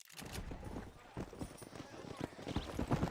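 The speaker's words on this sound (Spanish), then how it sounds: "Caballito." Hooves of a horse clip-clop in a quick, steady trot, close by, with a voice talking over the rhythm.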